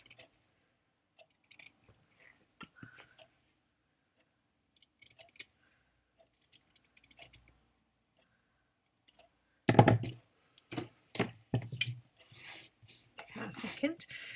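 Scissors trim excess paper from the edges of a handmade notebook. At first there are faint, sparse snips and clicks, then a denser run of close, crisp cuts near the end.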